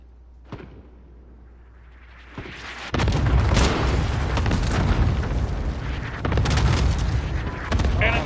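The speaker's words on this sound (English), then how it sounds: "Enemy cluster strike. Take cover." A cluster strike in Call of Duty Modern Warfare, beginning with a few distant thuds and then breaking into a long chain of loud, close, rumbling explosions that overlap one another, with brief voice callouts heard beneath the blasts.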